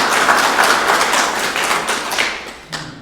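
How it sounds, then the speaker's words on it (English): Audience applause for the turnout of over 50 people at a Nehemiah Action community organizing event, a dense, steady patter of many hands clapping that runs the whole time, then thins near the end. "So I want to give a round of applause for"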